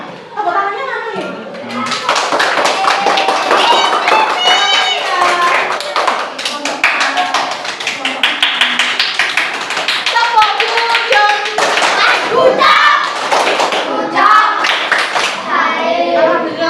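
Children in a class clap and tap their hands in a steady burst of claps that runs nearly throughout, with young voices talking and calling out over and between the claps.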